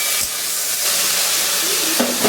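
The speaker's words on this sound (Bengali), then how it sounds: "একটু তেল দিয়ে সামান্য ভেজে নিচ্ছি" Shrimp and potatoes frying in a little oil give a steady, close hissing sizzle that fills the short stretch, with no talk over it.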